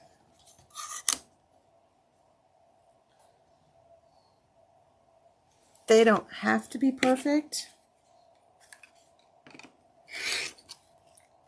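Several short, crisp rotary cutter strokes through fabric on a cutting mat, one pair early and a few more later, with a person talking between the cuts.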